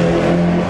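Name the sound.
vintage cars passing on race track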